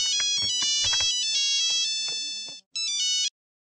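A mobile phone ringtone plays a bright electronic melody up close, repeating its phrase, then breaks off briefly and resumes before stopping abruptly.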